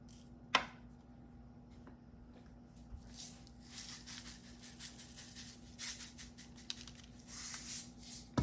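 A pepper grinder cracks pepper over baked potatoes in olive oil, producing faint, close, rapid gritty crunching in short bursts after a single knock.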